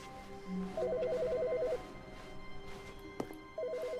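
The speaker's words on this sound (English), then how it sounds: "Phone's ringing." An office telephone in The Stanley Parable rings in a warbling electronic trill, one burst lasting about a second, then a pause with a sharp click, then a second ring starting, fairly loud over quiet room tone.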